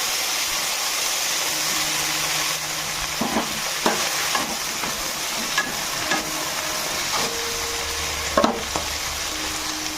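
Cauliflower frying in hot mustard oil, a constant loud sizzle with a few sharp clanks and scrapes of a utensil against the pan.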